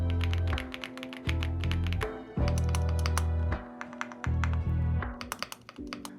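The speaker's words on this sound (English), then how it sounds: "And here's a little ASMR keycap for you." Rapid clacking keystrokes on a backlit mechanical keyboard used in a work office, fast bursts of close, crisp key presses with brief pauses, alone with no talk.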